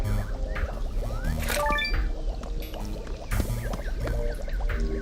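Water pours and splashes in the Adventure Time: Finn and Jake Investigations game, a faucet running with a busy, continuous liquid gurgle, dripping and filling sounds layered over it.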